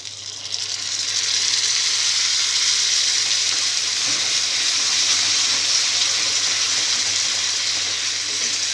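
Tomato paste fries in a pan after ginger-garlic paste for a restaurant-style mushroom masala curry, a loud, steady sizzle that swells within the first second and holds evenly, with a faint stir partway through and no talking.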